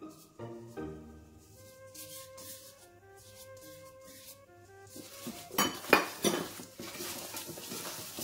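Metal utensils scrape and clink against a dish while lamb is stirred with red paprika, thyme and mustard, soft at first and then a louder run of rubbing and knocking near the end, with faint tonal ringing in the background.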